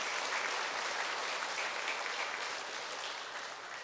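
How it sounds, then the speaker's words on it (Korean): A church congregation applauding during the Sunday announcements, a broad, even wash of clapping from many hands that carries on steadily and fades slightly toward the end. "우리 수고하셨고 또 수고하시라고 박수 한번 합시다"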